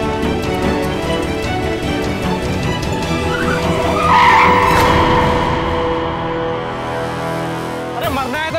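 A car's tires squeal loudly as it skids to a stop over a dense, continuous roar of engine and road noise, with the screech peaking midway through.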